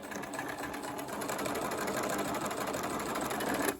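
A sewing machine runs a continuous straight row of stitches along a dress seam, a steady close whirring hum lasting nearly four seconds before stopping abruptly.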